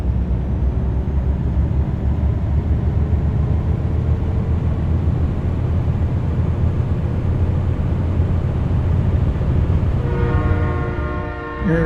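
A train rolls past in American Truck Simulator, a steady loud rumble of wheels on rails that fills the scene, with a brief horn-like tonal blast near the end.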